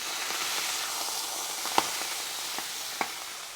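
Burgers sizzle in a pan on medium heat, a steady close-up frying hiss with a few faint pops and crackles throughout, no talking.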